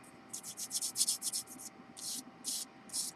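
Printed paper calendar dates rubbed with sandpaper in short, raspy scratching strokes, close and fairly quiet, with an irregular rhythm and brief pauses between passes.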